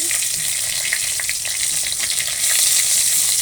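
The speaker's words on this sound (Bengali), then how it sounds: "এই যে তেজপাতা শুকনো মরিচ দিয়ে দিলাম একটু ভাজি ভাজি করব" Bay leaves and dried chillies frying in hot oil in a Bengali kitchen, a dense, continuous bright sizzle with fine crackling throughout, steady and close, with no one speaking.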